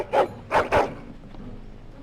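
A dog in the Dragon Age Origins video game barks three times in quick succession, close and clear, with a short gap after the first bark and then quiet.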